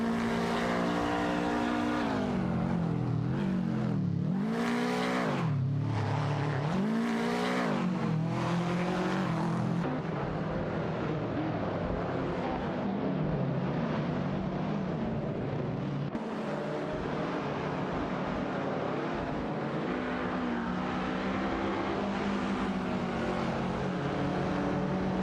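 Racing game engines, including a Honda Civic RS74 chased by a Ferrari 166 Inter, roar in a continuous high-pitched drone, with repeated rising and falling revs early on and a steady sustained whine after.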